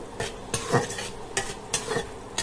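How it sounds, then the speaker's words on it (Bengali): Spice masala being sautéed for a ridge gourd fish curry, quick rhythmic spoon scrapes and clinks against the pan over a low sizzle, close up with no voices. "মশলাটা একটু কষায় নিব"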